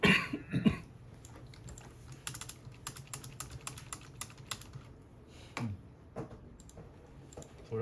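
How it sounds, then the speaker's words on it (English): A person coughs harshly a few times up close at the start and once more later, over a backdrop of quick, soft computer keyboard typing. "after that I will continue to cough"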